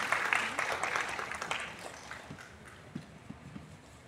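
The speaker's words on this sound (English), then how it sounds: "Let's give him a round of applause as well." Audience applause at an awards ceremony honoring personalities, a dense crackle of clapping that starts fairly loud and gradually thins and fades over a few seconds, with a few stray louder claps near the end.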